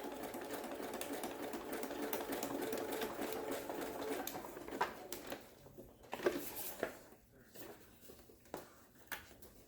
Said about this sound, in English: I'm going to stitch this up and trim